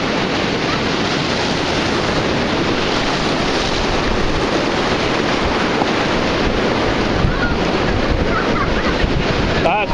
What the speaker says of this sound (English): Way up on the beach, the waves are.